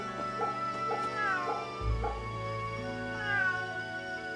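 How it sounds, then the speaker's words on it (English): A cat meows several times in the video game Fate Samurai Remnant, clear harmonic cries set over steady game music with a low thud midway. "Oh, wait, there's a cat. There's a kitty cat."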